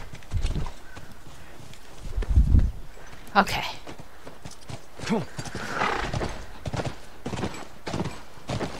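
Horse hooves clip-clop and a horse whinnies loudly in the video game The Last of Us, with a person speaking briefly in between.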